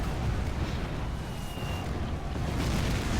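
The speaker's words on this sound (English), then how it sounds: "Fire all the Inferno cannons over here." Inferno cannons fire in the real-time strategy game Rise of the Reds, a dense, continuous rumble of explosions and booms that stays loud and unbroken throughout.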